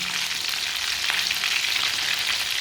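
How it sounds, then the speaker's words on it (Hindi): Egg kebabs fry in shallow oil, giving a steady, close hiss with constant small pops and splatters throughout and no pauses. "आप देख सकते हैं छींटे पड़ रहे हैं।"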